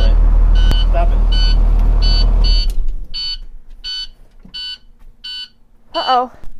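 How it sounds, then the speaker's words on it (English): A school bus low coolant alarm sounds in a repeated run of short, evenly spaced high beeps, first under a loud engine rumble and then nearly alone once the engine stops; a brief voice comes in near the end. "The low coolant alarm was going off."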